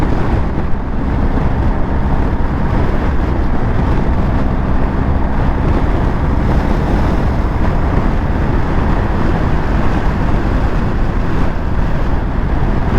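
Very strong wind roaring past a BMW R 1250 GS Adventure motorcycle on a Moroccan road, a loud, constant buffeting rush with deep rumble, unbroken throughout with no talk.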